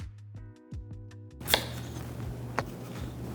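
A knife chops potatoes into strips on a board, a few spaced, sharp cuts over a steady low hum, close and fairly soft, with no speech.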